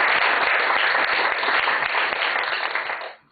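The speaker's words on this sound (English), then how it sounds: "let's welcome Professor Epstein with a big round of applause" Dense, steady applause from a lecture audience welcoming a visiting professor, a continuous wash of many hands clapping that fades out abruptly near the end.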